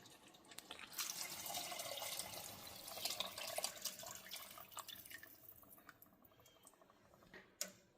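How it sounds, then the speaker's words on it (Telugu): Water poured from a vessel into a masala base for rice before pressure cooking, a close splashing, trickling pour lasting several seconds, then a few drips and a light clunk as it stops. "ఇప్పుడు దీనికి ఆల్మోస్ట్ సరిపడంటే 1:2 వాటర్ వేసుకోవాలి."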